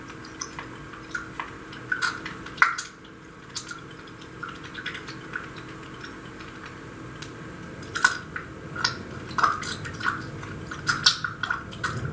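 Layers of a homemade cardamom sugar-scented lotion are mixed by hand, giving soft, irregular wet clicks and drips that grow busier toward the end, close and quiet with no talking.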